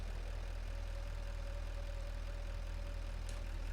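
A steady low idle from a tractor engine in the factory-building game Satisfactory, a constant even rumble with a faint tonal hum above it, running unbroken at moderate loudness with no talk over it.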